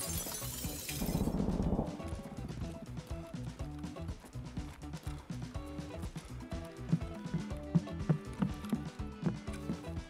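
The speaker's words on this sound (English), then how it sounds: "He just broke the glass from far" Glass shattering in the Escape from Tarkov video game, a loud burst with a crash of broken glass near the start, then followed by busy in-game rustling, footsteps and clatter.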